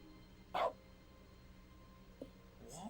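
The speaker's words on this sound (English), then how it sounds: "If we press it, we just have the noise of a dog." A dog sound effect from dog mode in the video game The Stanley Parable Ultra Deluxe: one short bark, then a couple of faint yips over a quiet, low room hum.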